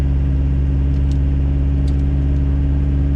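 Turbocharged Caravan minivan engine idling high at a drag strip, a steady loud droning hum with strong low tones and a couple of faint higher chirps, no talking.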